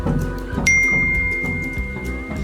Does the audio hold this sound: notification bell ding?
yes